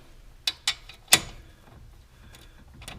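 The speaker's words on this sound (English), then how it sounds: "take a ratchet, snug them up." Ratchet snugging up brake caliper bolts on a 2009 Pontiac Montana during a front brake pad change, a few sharp metallic clicks, close and fairly quiet.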